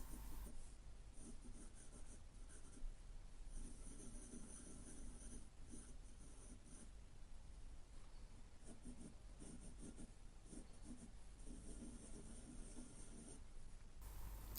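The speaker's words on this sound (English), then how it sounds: "Now let's draw the little horns." A pencil sketches small giraffe horns on paper in a beginner drawing lesson, giving a quiet, steady scratching and rubbing of graphite that runs continuously with soft strokes and brief pauses, heard alone and close.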